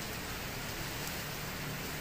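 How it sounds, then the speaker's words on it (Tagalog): Steady rain falls outdoors, a dense, even hiss of drops hitting surfaces that continues without a break and has no talking over it. "basa kami ng ulan, oh"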